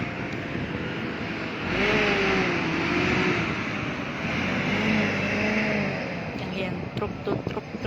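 A truck drives past on a street at night in Eilat, its engine rumble swelling and fading over several seconds, moderately near, with people talking over it.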